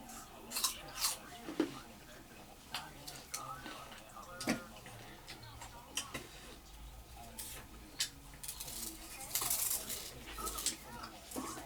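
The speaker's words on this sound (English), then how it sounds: "And I chew." Someone chewing pieces of soft, sweet, home-grown sugarcane cut with a knife, with close, quiet crunches and sharp bites at irregular intervals over low background noise.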